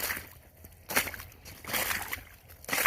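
Boots slosh through waterlogged, soggy homestead ground, the wet squelching steps coming in a few distinct bursts close by, with quieter dripping between them.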